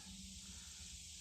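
Close, steady hiss of matte black filler primer sprayed from an aerosol can onto an early Ford Bronco under restoration, a continuous burst with no pauses and no voices.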